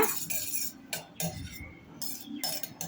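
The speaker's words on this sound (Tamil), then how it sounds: "ஒரு பாத்திரத்தில் 2 முட்டை உடச்சி ஊற்றி நல்லா அந்த முட்டையை வந்து பிளட் பண்ணிக்க போகிறேங்க" Two eggs beaten in a bowl with a fork or spoon, giving quick irregular metallic clinks and scrapes against the dish, moderately close with no talking.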